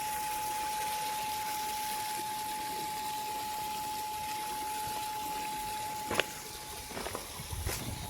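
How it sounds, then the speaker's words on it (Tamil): Water gushes steadily from a borewell pump outlet on a coconut farm, with a constant rushing flow and a faint steady pump whine. A few thumps and splashes follow near the end. "1வது போர் தண்ணி ஊற்றிட்டு இருக்குது."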